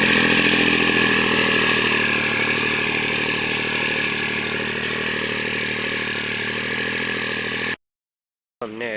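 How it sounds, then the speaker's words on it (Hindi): A New Holland 3630 tractor with a turbo engine runs hard nearby with a loud, steady roar and turbo whine, then cuts out abruptly to silence near the end before sound briefly returns. "आवाज़ देखो भाई ट्रबों की"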